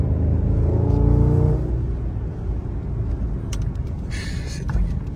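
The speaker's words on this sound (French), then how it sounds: "C'est incroyable le son de la voiture" An Audi S8 with a V10 engine revving, a loud, deep, throbbing engine note that holds strong then eases into a lower rumble, with a few faint clicks near the end.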